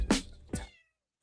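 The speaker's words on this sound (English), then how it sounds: "the queen is here, the little kitty cat" A young pet cat, the household's little female kitty, lets out two short meows in quick succession, close and clear, then falls silent.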